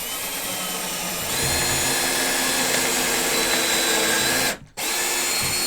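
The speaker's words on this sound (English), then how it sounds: "and then you can just start to drill." A power drill whirs loudly and steadily up close as it bores a pocket hole into wood, briefly stopping and then starting again near the end.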